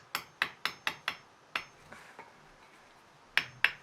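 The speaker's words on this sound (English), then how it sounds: "just hammer it until it's really in place" Hammer tapping a metal jeans button into place: a quick run of sharp, close taps, a short pause with faint rustling, then two final strikes.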